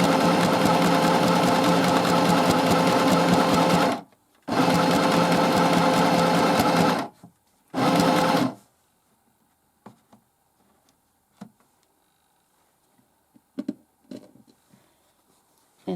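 A portable mini sewing machine stitches fabric in three loud, steady buzzing runs broken by short pauses, then goes quiet apart from scattered small clicks and taps nearby.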